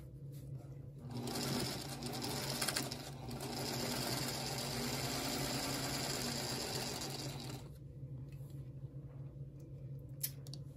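A sewing machine stitches a quilt block in one continuous run of several seconds, a rapid, even mechanical whir and clatter up close, starting and stopping cleanly with quiet before and after.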